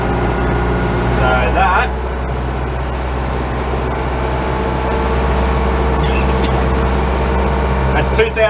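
A 34 ft Hartley timber boat's engine holds a steady 2,000 RPM while cruising at about 5 knots, a constant loud drone throughout with light splashing, and a person speaks over it.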